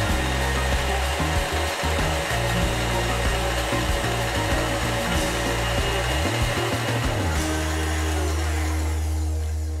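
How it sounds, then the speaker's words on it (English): An electric mixer whisks egg whites for a meringue, a loud, steady motor whir close by with a constant drone and small rattling variations, going on without pause and with no talking. "So the meringue's been whisking."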